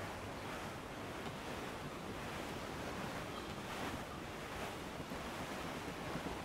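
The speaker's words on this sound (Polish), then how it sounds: "There's a strong wind now." Strong wind and rolling ocean surf at sea in the pirate game Assassin's Creed 4 Black Flag, a steady, dense roar of gusts and breaking waves with no lulls.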